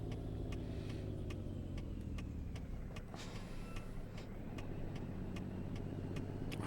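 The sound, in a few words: Kenworth K100 truck engine driving, from a video game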